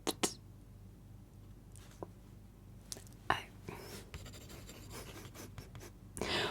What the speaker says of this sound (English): I'm afraid I have to write that down.